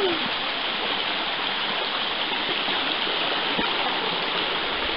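A mountain stream rushes at a rock-hop water crossing on a New Hampshire hiking trail near Zealand, a steady, close, broadband roar of flowing water filling the whole clip with no talk.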